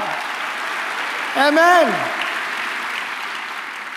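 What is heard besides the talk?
audience applause in church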